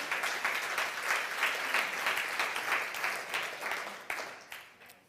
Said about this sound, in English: A round of applause to Anna and Mr. Thomas, their contribution.